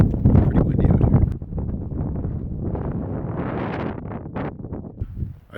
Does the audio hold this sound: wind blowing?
yes